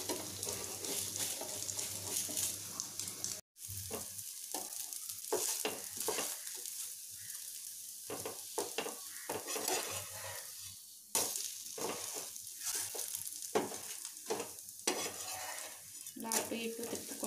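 Wheat flour dosa cooking on a pan, a steady low sizzle running throughout with intermittent scraping and utensil taps as it is turned, close by and fairly quiet.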